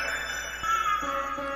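Bright, sustained bell-like tones ring steadily over a low beat, with a few soft thumps and a short rising note partway through.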